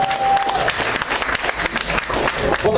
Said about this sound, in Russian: Нашей замечательной публике еще раз полный аплодисмент друг другу.